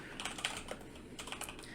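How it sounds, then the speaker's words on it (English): A loud computer keyboard clatters with quick, uneven keystrokes in short bursts, close to the microphone, with no voices. "sorry if my keyboard is really loud"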